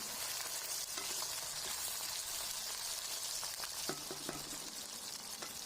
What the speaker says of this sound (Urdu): ابھی گھی گرم ہو چکا تو ہم نے اس میں عربی ایڈ کر دی ہے، تو اس طرح سے ہم اس کو فرائی کریں گے